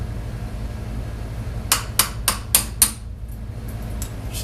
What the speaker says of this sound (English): Just give it a little tap and it'll pop right out.